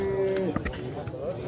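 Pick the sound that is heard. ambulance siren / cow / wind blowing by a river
cow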